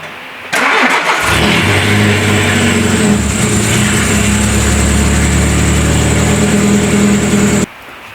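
A Citroën Saxo 1.1i with a broken exhaust cranks and starts, then idles loudly and steadily up close with a rough, raspy drone until it cuts off near the end.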